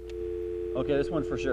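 A steady telephone dial tone hums while a call is placed, carrying on under a person who starts speaking partway through.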